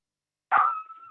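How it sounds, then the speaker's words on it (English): A single dog bark or yelp sounds once, fairly clear but set back in the background with a short trailing tail, no talk over it. "There's a doggy somewhere."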